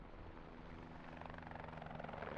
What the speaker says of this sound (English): Helicopters coming in, and they're just going to be feeding these things ammo.